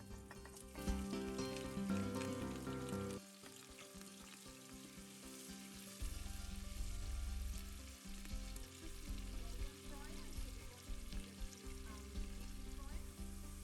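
Onions frying in hot oil in a pot for Afghan Kabuli pulao, a continuous crackling sizzle that swells louder midway and keeps popping steadily, close and unaccompanied by voices.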